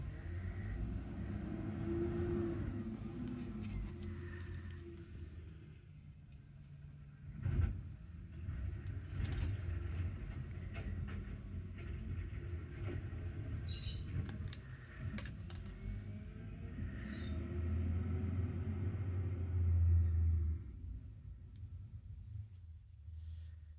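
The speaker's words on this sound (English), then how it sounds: "Trash truck, if y'all can hear that," A garbage truck passes outside, a steady low engine rumble and drone with brief mechanical clanks and a swell of revving near the end, heard at a moderate distance with no voices.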